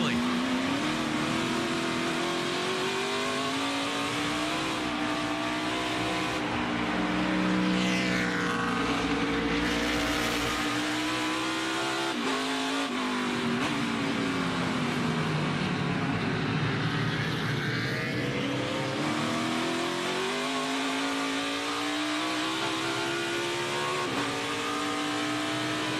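A NASCAR race car, the green and black No. 10 driven by Justin Haley, roars around the track wide open with a loud sustained engine drone that sweeps in pitch as it passes, then lifts and brakes.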